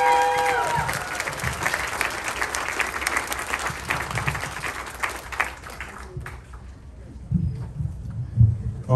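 A crowd applauds at a Navajo Code Talker Day gathering, a sustained, dense round of clapping that fades after several seconds into murmuring voices and outdoor ambience.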